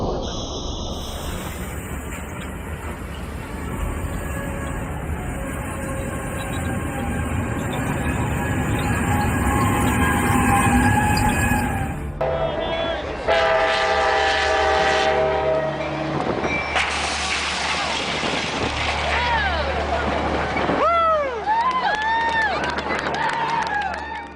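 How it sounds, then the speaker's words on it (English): A train collides with a semi-truck at a crossing in Richmond, Texas: loud rolling rail noise and a sustained horn, then an abrupt change to scattered crashing and clattering sounds, with voices in the latter part. "Train hits semi-truck in Richmond,"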